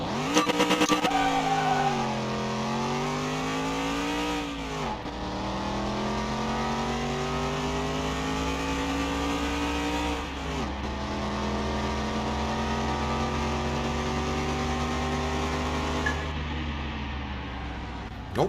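A tuned Zoe race car with slicks roars through a drag run in Car Mechanic Simulator 21, its engine climbing in pitch through several gear shifts with brief dips between, loud and close throughout.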